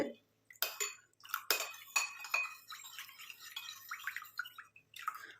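A spoon stirs a mixture in quick, irregular strokes, producing a run of light metallic clinks and scrapes close by, with short pauses between bursts.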